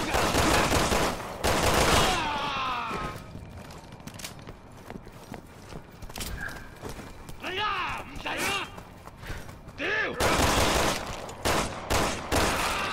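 Gunfire bursts from the video game Resident Evil 6, loud rapid shots clustered at the start and again near the end, with quieter scattered shots, game effects and voices in between.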